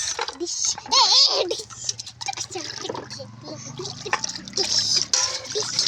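Running water trickles steadily as a small child washes dishes at home, with clinks from the dishes, while voices talk over most of it.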